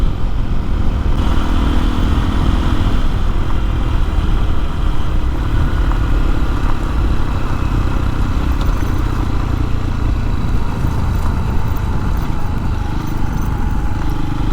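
Honda XR150L motorcycle ridden along Forest Service roads in Kisatchie National Forest: a loud, continuous engine drone with rumbling wind and road noise, steady throughout.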